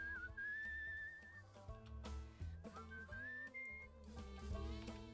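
Melodic whistling in the video game Where the Water Tastes like Wine, a bright wavering tune carried over soft instrumental music, clear and steady without any talking.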